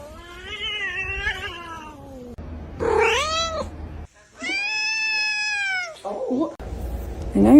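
A cat stuck in the floor lets out loud, drawn-out meows and caterwauls, several long wails in a row, close up, with a person's voice in between.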